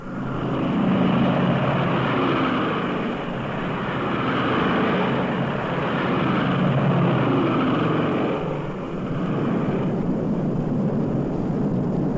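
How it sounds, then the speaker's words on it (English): Heavy British bombers setting out on the August 17, 1943 night raid on Peenemünde make a steady, dense engine drone. The roar swells and eases slightly over its length and sounds like many aircraft together, loud and continuous with no voices. "300 British heavy bombers took to the air."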